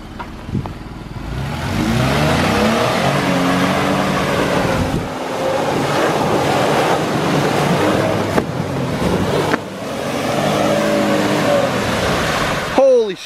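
A truck engine roars and revs hard while ripping through deep water-filled ruts, water and mud splashing and churning around it, with a brief sharp knock near the end.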